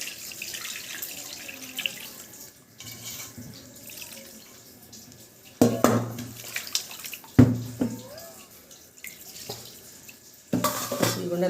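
Water is poured from a vessel into a mixed fish curry base made with bocha fish, heard as a few separate splashy pours with faint clinks between quieter stretches.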